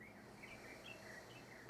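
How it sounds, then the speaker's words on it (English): Faint outdoor birdsong during a yoga session: a few thin, high chirps and short trills drift over a quiet, hissy background, soft and distant throughout. "Listen to those birds singing."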